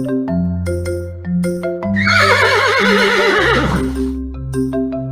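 A horse whinnies loudly over a bouncy musical backing, its wavering cry rising then trailing off, with plinking notes continuing before and after.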